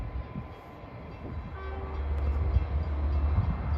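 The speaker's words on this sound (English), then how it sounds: "Here comes train 78 en route from Babylon to Patchogue." Train 78, running from Babylon to Patchogue with engine 419 on the point, pulls into Bayshore station with a low rumble that swells gradually, a brief horn-like tone rising partway through.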